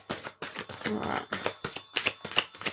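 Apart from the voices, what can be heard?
shuffling tarot cards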